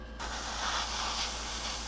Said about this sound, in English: I'm just spraying real rough, real quick.